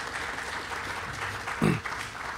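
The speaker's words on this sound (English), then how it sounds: "Let's give all our men and women in uniform here a round of applause as well" An audience applauds at a California State Assembly event honoring service members in uniform, steady clapping beneath a speaker's voice with one brief louder thump.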